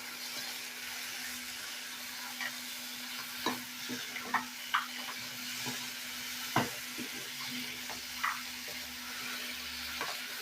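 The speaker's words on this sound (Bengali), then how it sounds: "দিয়ে আবারও চিংড়ি মাছটাকে বড়ি আলু দিয়ে কষিয়ে নেব।" Prawns frying with potatoes and bori while being stirred, a soft continuous sizzle broken by scattered clicks and scrapes of a spoon, close and fairly quiet, with no talk.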